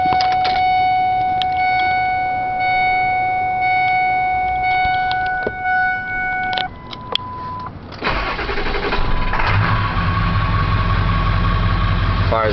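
A 2000 Ford F350 XLT pickup with a Powerstroke turbo diesel and 145,000 miles cranks over after a steady electronic chime, then fires up and settles into a loud, close, rumbling diesel idle.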